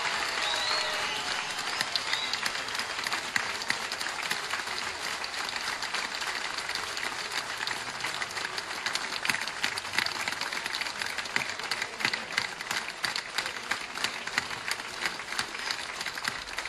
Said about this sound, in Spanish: Un fuerte aplauso nuevamente a la compañera Lilian Quechichán.